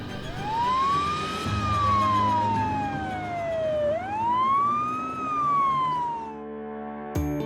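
A wailing ambulance siren sweeps up and down in long, loud glides over steady traffic rumble, cutting off abruptly near the end.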